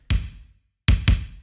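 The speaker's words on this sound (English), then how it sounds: "And then there's the kick." Three punchy kick drum hits from an Addictive Drums sample, one alone and then two in quick succession, each with a short tail of room ambience.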